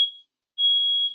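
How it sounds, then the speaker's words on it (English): An alarm from a car parked outside a house gives two high, piercing electronic tones, a short one then a longer sustained one after a brief gap, loud and with no voices. "sorry about the alarm. There's a car outside my house."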